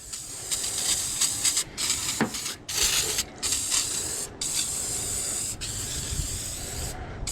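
A pressure sprayer blasts water to clean an air conditioner condenser and radiator ahead of a northern trip, a loud steady hiss broken by several short pauses, with no talking.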